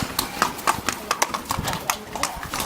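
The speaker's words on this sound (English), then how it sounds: "this horse carriage." Horse hooves clip-clopping as a horse-drawn carriage passes along a corridor-like street, a steady uneven patter of sharp hoof strikes close by, with voices talking faintly in the background.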